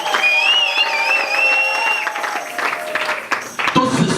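Church congregation applauding with crowd cheering mixed in, under a sustained high sung or ululating voice at the start, clapping swelling through the middle before a short break.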